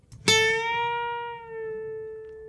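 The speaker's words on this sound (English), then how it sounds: "The next bend is an embellish bend" One plucked acoustic guitar note rings out, its pitch nudged up a half step and eased back down as it sustains and gently decays.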